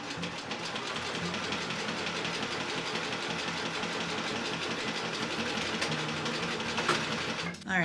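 Sewing machine running steadily as pieces of bias tape are stitched together for a scrap-fabric pennant banner, a continuous close mechanical whir with no speech, stopping briefly near the end.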